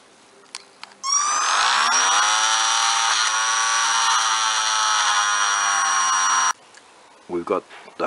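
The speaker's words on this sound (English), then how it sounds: "So we'll cut a hole in his back here and we'll fill it with squadron" Small rotary tool cutting a hole in the back of an HO-scale plastic conductor figure, a loud high-pitched whine that spins up and holds steady for about five seconds before stopping, followed by brief clatter.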